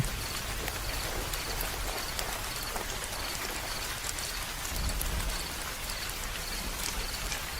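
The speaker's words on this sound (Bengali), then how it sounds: "টিনের চালে বৃষ্টির শব্দ আরো জোরে বাজতে লাগলো" Rain drums steadily on a tin roof, a dense, even hiss of patter that continues without a break, with no voices.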